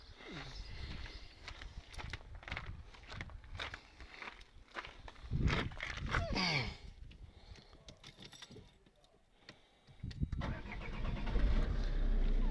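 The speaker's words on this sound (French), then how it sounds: "On va remettre un petit coup de démarrage." A Peugeot 407 car is started up, with footsteps and jangling keys first, then the starter cranking and the engine catching near the end, close and fairly loud.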